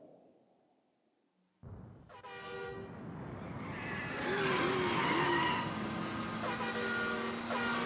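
Bowser's car in Super Mario 3D World bursts in after near silence with a loud engine roar and a tire-squeal screech, then a sustained revving drone under musical horn-like toots, with no talking.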